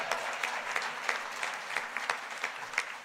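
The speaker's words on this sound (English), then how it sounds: "It's all right, you can clap." Applause at a speech by Bermuda's Premier David Burt at a Labor celebration: a moderate, steady patter of many hands with scattered louder claps, heard from a little distance.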